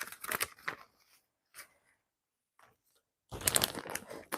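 Bigger scraps of cardstock are pulled from a pile and sorted in short papery rustles and crinkles, with bursts at the start and end and quiet gaps between.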